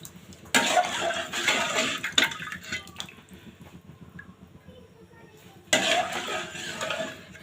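Hot oil tempered with fried onion and garlic is poured into a pot of haleem, giving two loud bursts of sizzling splash, the first followed by scraping and clinks, then a quieter stretch between them.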